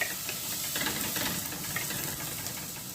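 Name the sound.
onions frying and being stirred in a pan for fish curry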